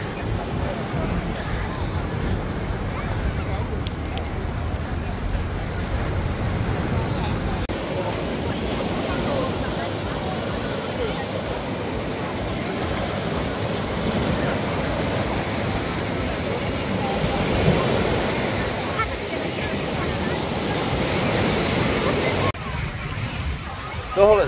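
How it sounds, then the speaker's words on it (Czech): Sea surf breaking on the beach at Foxi Manna in Sardinia, a steady broad wash of waves that roars on throughout, with a voice talking over it. "Dneska se nám to pěkně vlní."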